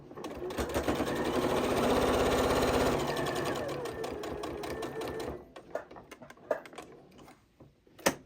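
A Janome 8200 QCP sewing machine stitches a fabric bowl cozy in a close, continuous humming run of rapid needle strokes for about five seconds, then stops, followed by scattered clicks and fabric handling.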